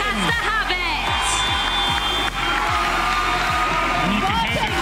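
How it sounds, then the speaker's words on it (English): A basketball crowd at the Roses 2024 varsity event erupts after Lancaster's win, loud sustained cheering, whoops and shouts with rhythmic stamping thuds from shaking stands, voices mixed in throughout. "And you can hear the crowd."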